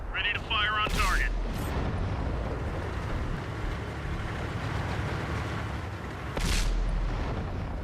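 A heavy tank cannon firing in World of Tanks, a single loud boom followed by a long rumbling engine drone, then a second sharp shot near the end, with a voice briefly heard at the start.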